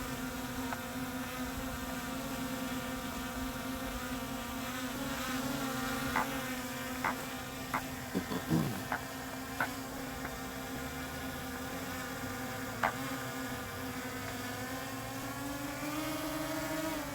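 A DJI Mini 5 Pro drone, stuck in grass near a pipe, buzzes with a steady, faint insect-like whine throughout, with a few small clicks and taps partway through.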